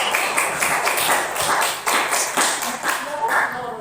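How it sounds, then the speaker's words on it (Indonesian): A classroom group applauds together: steady, dense hand clapping for several seconds, fairly loud and close, with some voices mixed in. "aplaus untuk kita semua"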